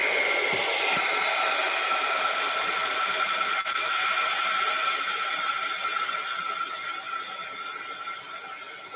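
A hair dryer blowing on watercolor paint, a loud steady whining rush of air that holds for several seconds and eases slightly toward the end.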